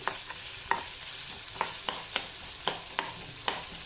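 Chopped onions fry in a pan for curd rice with a steady soft sizzle, punctuated by regular scrapes and taps of a spoon as they are stirred.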